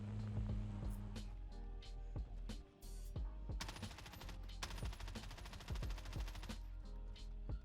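Rapid bursts of submachine gun fire in a shooter video game crackle close and loud, with sharp repeated shots and a long sustained volley in the middle.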